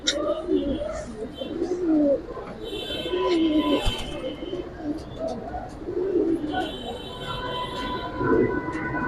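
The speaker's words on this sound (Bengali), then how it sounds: "একদম আইসটা আলাদা কবুতর।" Silver racing pigeons coo repeatedly in soft, wavering low calls over a constant background hum, with a few sharper clicks and bird sounds between the coos.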